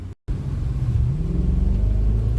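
A Mercury car engine revs hard on a closed course, a loud, deep, continuous rumble that rises steadily after a brief cut at the start.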